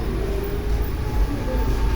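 A metro-style ride train at a holiday park rolls along, giving a steady close rumble of wheels and carriage noise with no voices.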